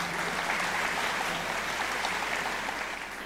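Broad, steady audience applause at a Pakistan Air Force special ceremony, a dense wash of clapping that holds evenly and fades slightly at the end.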